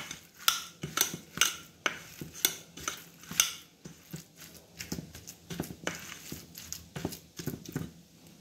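Chicken sticks being mixed by hand with chaat masala in a bowl, giving a run of soft, rhythmic slaps and clinks, close and fairly quiet, with no talking.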